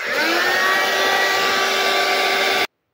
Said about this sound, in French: Un petit coup de heat gun.